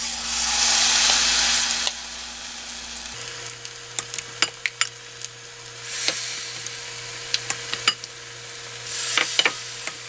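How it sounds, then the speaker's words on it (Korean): Hissing, crackling oil sizzle as thin-battered lotus root deep-fries, surging loud, quieting to scattered pops, then swelling again; no voices. "이거를 이제 담가서 이제 튀기시면 돼요."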